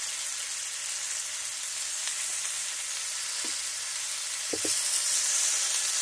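Lemons sizzle in an overheated pan while making chicken piccata, a steady bright frying hiss throughout with a few soft clinks and a slightly louder burst of sizzling near the end.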